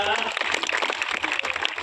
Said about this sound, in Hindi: बजा दीजिए जोरदार तालियां।